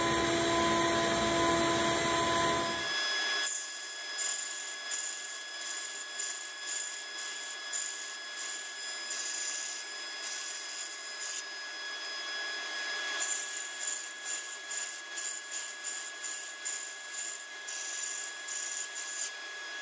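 A hand saw cuts kerfing in a wood strip, giving a rapid series of short rasping strokes in a steady rhythm, close and moderately loud, after a brief burst of broadband noise at the start.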